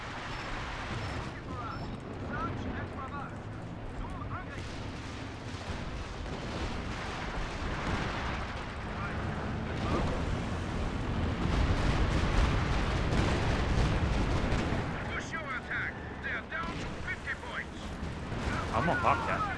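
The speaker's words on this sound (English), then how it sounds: "Airburst firing here." Airburst artillery firing across a Company of Heroes battlefield, a dense rumble of overlapping blasts and shell bursts that builds toward the middle and stays loud throughout, with game effects layered underneath.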